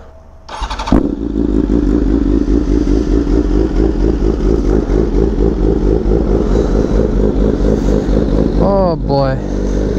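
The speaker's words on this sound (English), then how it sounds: "let's start this bike and get going" A motorcycle from a custom bike build fires up with a sharp catch, then settles into a loud, steady, close-up running rumble with an even pulsing beat that holds to the end.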